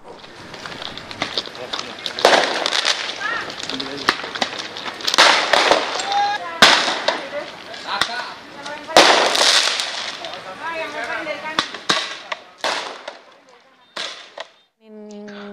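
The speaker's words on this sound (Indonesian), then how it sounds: "petugas terpaksa melepas tembakan gas air mata" Police fire tear gas during a drug raid in North Jakarta as residents resist, sharp cracks and bangs scattered through crowd noise, with shouting and a news reporter's voice over the commotion.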